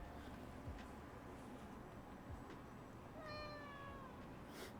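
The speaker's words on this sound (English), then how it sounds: "Little plaintive meows." A cat named Mathis lets out a few thin, plaintive meows, faint against a steady background hiss, clustered near the end.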